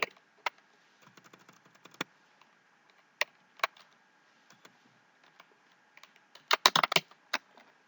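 Keys on a computer keyboard are tapped while entering data into an Excel spreadsheet, scattered single clicks at first, then a quick close burst of typing near the end, alone and fairly quiet.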